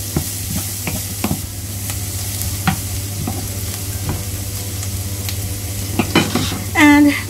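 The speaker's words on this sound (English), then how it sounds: "And then we'll put the chopped ginger as well. Just stir it." Chopped ginger sizzling in a pan while cooking beef pares mami, a steady close sizzle with repeated stirring scrapes and clicks, a low steady hum beneath, and a brief voice near the end.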